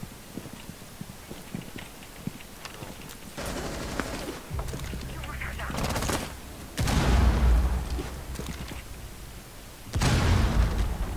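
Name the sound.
gunshots in Rainbow Six Siege video game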